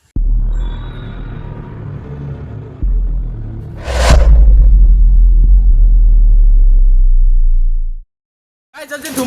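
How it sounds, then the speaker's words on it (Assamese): A violent storm wind with hail roars in rough, rumbling gusts that swell into a loud buffeting burst midway, then cut off abruptly before a brief return at the end. "ধুমুহা আহিছে ধুমুহা আৰু এইবিলাক চাওঁ শিলগুটি বৰফ পৰিছে"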